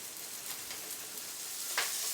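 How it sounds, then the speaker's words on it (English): Fat pork sizzles in a frying pan, a close, steady hiss with a brief sharper crackle or stir near the end and no voices. "Just going to put all of that fat pork in there and get it frying."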